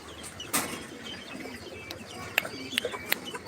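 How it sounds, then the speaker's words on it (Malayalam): A rooster heard in a rural outdoor setting: soft clucks and brief calls with a few sharp clicks over low background noise. "പൂവൻ കോഴിയുണ്ട്"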